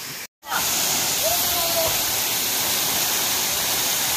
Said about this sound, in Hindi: बहुत जोर जोर से पानी गिर रहा है